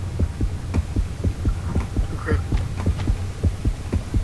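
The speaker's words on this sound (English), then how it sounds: "That heartbeat noise" A video game heartbeat effect thumps in a steady, quick double-beat rhythm over a low hum, continuous and fairly prominent throughout.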